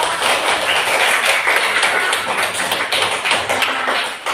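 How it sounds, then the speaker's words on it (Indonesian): A classroom of pupils claps for a group of classmates, a loud, dense burst of hand claps with an uneven, pattering rhythm that carries on for several seconds. "Beri tepuk tangan untuk kelompok."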